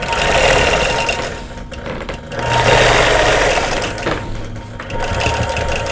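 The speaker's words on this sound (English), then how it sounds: "I'm just going to stitch in the ditch to the next triangle." A sewing machine stitching in the ditch along a quilt's seams, a steady fast mechanical whirr with close motor hum that dips briefly and resumes, running alone.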